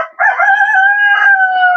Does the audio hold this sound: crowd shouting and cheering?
no